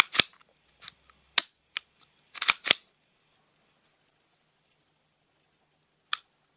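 Sharp mechanical clicks from the trigger of an FN 502 pistol being cycled: a handful of crisp, close snaps in irregular clusters, then a pause and one final click, with no talking.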